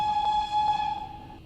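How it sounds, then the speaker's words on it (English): A train whistle in the video game Train Sim World 3 sounds like a steam whistle, giving one steady, fairly loud tone that fades over about a second and a half. "sounds, I suppose, a bit like a steam train whistle"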